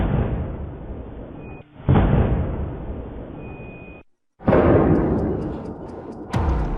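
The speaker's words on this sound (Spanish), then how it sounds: "La explosión que despertó a medio Culiacán ocurrió alrededor de las 3:30 de la mañana" A nighttime explosion in Culiacán caught on a security camera, heard as heavy broadband rumbling blasts with a sharp cutoff and a second loud burst, then a few sharp pops and cracks.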